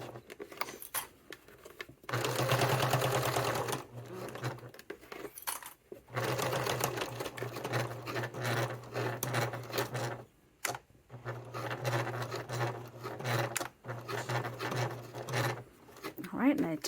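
A sewing machine top stitches a satchel bag in bursts, the motor whirring close and steady for several seconds at a time with short pauses between runs, no talk over it.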